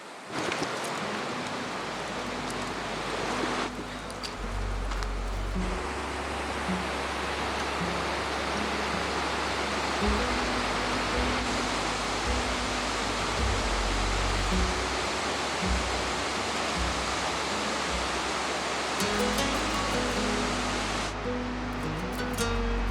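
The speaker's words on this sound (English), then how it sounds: "The big waterfall up there." Big waterfall and raging river in Valdez, Alaska, a steady loud roar of rushing water that fills the scene close by, with no voices over it.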